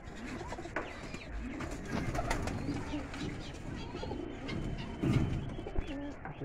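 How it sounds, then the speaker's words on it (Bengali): Caged pigeons coo softly in low repeated phrases, faint and fairly close, against a quiet indoor background with light rustling. "দুইটা কবুতর খাঁচায় ধরে রাখছি"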